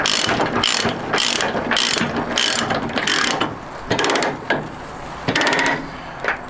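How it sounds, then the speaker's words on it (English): A ratchet binder is cranked tight on a load-securement chain holding a reel, producing loud, close bursts of heavy mechanical clicking strokes with brief pauses between them. "And then you can tighten your binder down."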